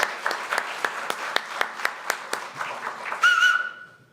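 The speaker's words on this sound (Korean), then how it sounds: "요게 진짜 박수를 치셔야 되는데" Sparse, evenly spaced handclaps from a small audience at a National Assembly policy forum on Korean animation, ending in a short bright whistle-like tone.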